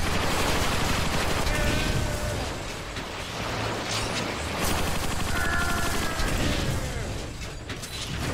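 Gunfire from the Transformers Rise of the Dark Spark video game, a loud, steady stream of mechanical, clattering weapon fire with metallic ratcheting under a dense mix of game effects.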